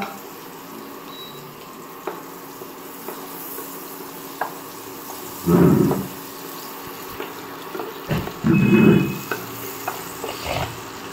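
Butter and flour cooking in a pan for a white sauce for pasta at home, a soft steady sizzle broken by two louder bursts of stirring and scraping, with no talking.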